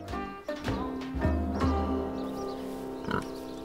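Several low, rough pig grunts and snorts come in short bursts, close by, with a louder squealing snort near the end.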